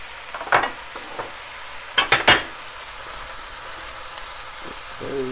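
Onions and apple sautéing in a soup pot for butternut squash soup give a steady soft sizzle, broken by a few sharp clinks and scrapes of a utensil against the pot, close and without talk.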